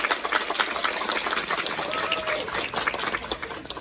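Applause from an audience at a closing performance of a musical: dense, steady clapping that fills the room throughout, with crowd voices mixed in.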